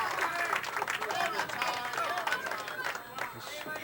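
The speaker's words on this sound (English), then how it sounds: "This crowd from Lynn starting to get a little excited." A crowd from Lynn at a bowling match cheers and claps in lively bursts, with chatter and voices mixed throughout.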